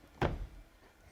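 A motorhead garage storage compartment door opens with a turned handle and a single soft thunk, heard close and fairly quiet, followed by a brief low rumble and then quiet.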